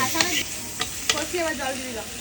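Spice paste frying with potatoes in a pan, a close hiss of sizzling broken by several sharp stirring scrapes, with faint voice-like sounds in the background.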